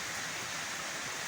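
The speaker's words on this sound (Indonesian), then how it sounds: "Hujan angin kieu mah." Heavy rain with strong wind during a storm, a dense continuous roaring wash of noise, steady and fairly faint, with no voices.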